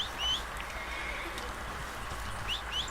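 Horses neigh in a video game, high whinnies rising at the start and again near the end over a steady bed of outdoor ambient noise.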